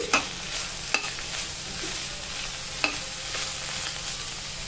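Spatula stirring bitter gourd fry in a pan, a soft steady sizzle with a few sharp scraping clacks spaced through the short stretch, close and without voices.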